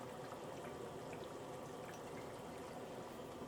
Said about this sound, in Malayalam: ഇതിലേക്ക് നമുക്ക് കുറച്ച് വെളിച്ചെണ്ണ ഒഴിക്കാം.